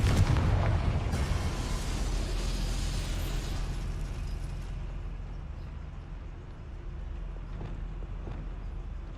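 A Confringo blasting curse goes off in Hogwarts Legacy with a loud, close explosive burst at the start, followed by a long rumbling decay and debris crackle that fades over several seconds into a low background hum.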